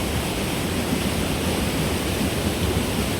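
Floodwater from the Tarduf Burn rushes loud and steady through a breach in its small defences. The roar is broadband and unbroken, like a waterfall, with no voices.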